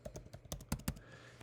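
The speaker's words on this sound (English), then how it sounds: "I'm typing in some of these quotes a little bit incorrectly here" Computer keyboard typing while writing HTML and CSS code: a quick run of uneven clicks and a few sharper key strikes close to the mic, then a short quiet pause with no one talking.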